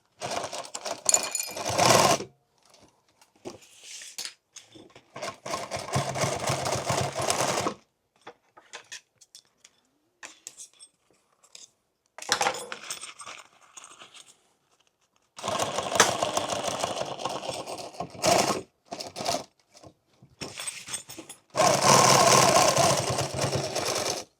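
A sewing machine stitches a tactical fanny pack in several loud bursts of rapid mechanical chatter, separated by quiet pauses and a few short clicks.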